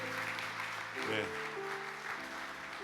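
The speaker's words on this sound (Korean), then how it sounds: "우리 모두가 큰 박수로 함께 축복해 주시면 감사하겠습니다." Audience applause at a Korean church pastors' conference, a steady wash of clapping running under a man's brief spoken thanks.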